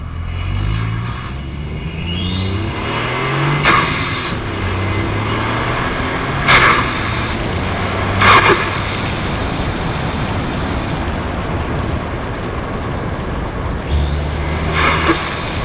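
A Ford Fiesta ST MK8 fitted with a Pro Alloy induction kit revs repeatedly, engine pitch climbing and falling with sharp intake and exhaust bursts over a steady driving rumble.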